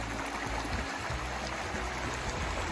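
Stream water rushes steadily across a hiking trail crossing in the mountains, a close, continuous broadband roar with no voices.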